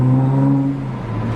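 A Nissan GT-R engine revs in a loud, close, steady drone with a strong low tone that dips slightly partway through, heard alone without talk.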